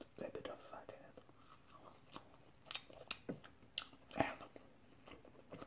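Close, intimate chewing of hare stew cooked with bacon and zucchini, soft wet bites and crunches in irregular bursts, with quiet whispered speech in between.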